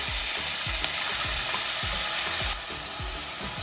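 Onions sizzle loudly in hot oil and ghee for a chicken korma, with a rhythmic scraping stir repeating roughly every third of a second.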